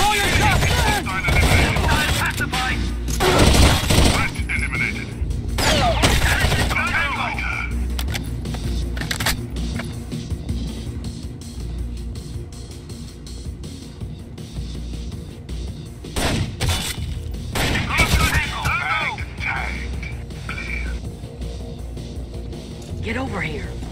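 Gunfire in the tactical shooter Rainbow Six Vegas 2, with scattered shots and bursts among game sounds and radio voices talking throughout.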